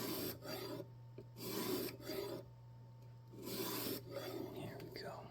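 Steady back-and-forth rasping of a knife blade drawn over a stone on a jig system sharpener, the strokes coming in regular bursts with short pauses between them, close and fairly quiet under a low steady hum.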